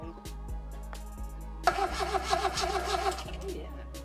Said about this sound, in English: It was cranking better, but still no start.